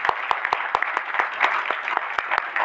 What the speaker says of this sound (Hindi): आप सबके लिए जोरदार तालियां होनी चाहिए